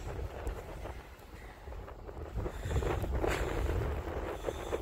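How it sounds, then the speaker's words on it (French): A low, rough generator engine drone outdoors during a power outage, straining and labouring steadily and growing slightly louder, with gusts of wind buffeting the microphone. "Ça, c'est une génératrice qui force."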